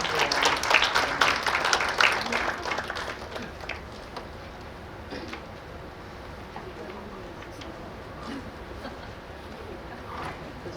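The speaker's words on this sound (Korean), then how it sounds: "큰 박수 부탁드립니다" Applause at a memorial and award ceremony for independence activist Choi Jae-hyung swells briefly, then fades to scattered faint claps amid quiet room noise and murmuring.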